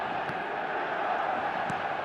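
Steady, distant roar of a football stadium crowd in Munich before a Manchester United versus AC Milan friendly, a low, even murmur with no distinct chants.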